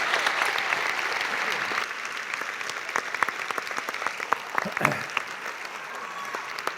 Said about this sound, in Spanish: este aplauso espontáneo